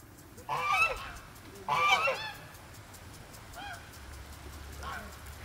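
Geese give two loud, close honking calls, followed by two fainter, more distant honks, with quiet background in between.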